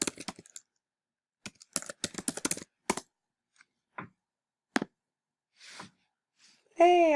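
Bursts of computer keyboard typing while logging in, quick clusters of key clicks separated by pauses, close and clear, with a short spoken remark at the end.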